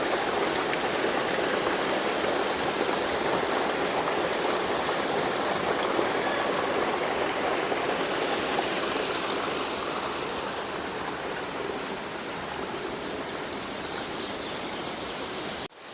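A waterfall roars near the cave of Lahoot Lamakan in Balochistan, a dense, loud, unbroken rush filling the whole clip, close by and with no voices over it.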